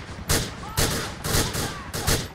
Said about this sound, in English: you have to not only shoot your way through countless thugs, but also a heavily armed squad of Noose officers